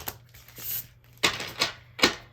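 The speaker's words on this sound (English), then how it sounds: "So I'm just going to give this one more good shuffle." Tarot cards are shuffled in a few sharp riffling bursts with brief pauses between them, close and crisp.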